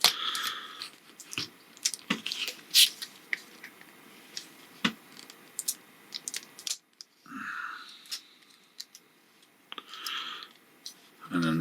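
Plastic parts of an X-Transbots Overheat transforming robot figure click, snap and rub as they are folded, small close crisp ticks in irregular bursts, with a person speaking briefly between them.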